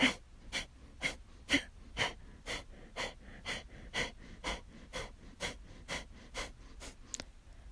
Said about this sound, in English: Inhale about halfway and start your pumping.